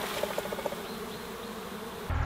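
Honey bees buzzing at an open hive being readied for winter, a steady close drone with faint rustling, ending in a brief louder low knock.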